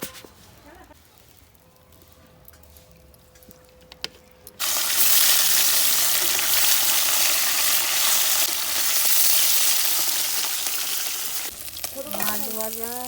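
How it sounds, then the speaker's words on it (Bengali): Bata fish frying in hot oil: after a few quiet seconds of faint kitchen clinks, a loud, steady sizzle bursts in and holds close, with a voice briefly heard near the end. "মাছ ভাজা নামিয়ে দিলাম"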